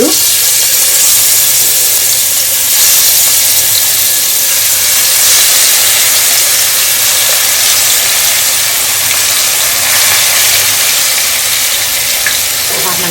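Marinated fish for fish biryani fries in hot oil with a loud, constant hissing sizzle that holds steady from start to finish.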